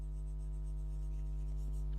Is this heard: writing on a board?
yes